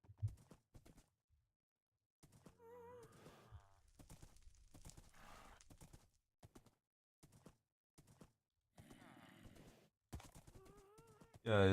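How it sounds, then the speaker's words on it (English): Horse hooves clop in Minecraft during a live multiplayer survival session, scattered soft steps at moderate distance under intermittent talking, with a few short tonal game sounds mixed in. "I'm gonna be taking my horse home"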